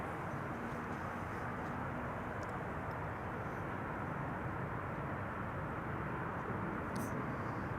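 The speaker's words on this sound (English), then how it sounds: "Embraer 190 arriving from London City" Embraer 190 airliner arriving at Amsterdam Schiphol from London City, a faint, distant, steady jet rumble spread evenly across the whole stretch with no clear peak.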